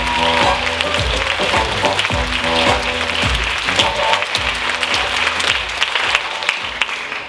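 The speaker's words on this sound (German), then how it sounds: "Bitte begrüßen Sie unter tosendem Beifall unseren ersten Panelisten." A comedy-show audience claps for a panelist in loud, sustained applause for about seven seconds, dense and unbroken.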